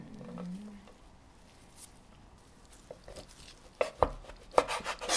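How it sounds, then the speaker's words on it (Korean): Dried shredded squid, soaked in cold water, is cut into bite-size pieces, a quiet stretch giving way to a cluster of sharp, close cutting snips and thuds toward the end. "진미채를 건져서 적당한 크기로 잘라주세요."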